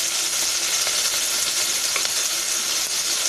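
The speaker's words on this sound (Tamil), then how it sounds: "வெங்காயம் வந்து நல்ல ப்ரௌனாக ஆகணும்." Sliced onions fry toward brown for peanut rice, making a dense, even hiss and crackle that holds steady throughout, close and alone.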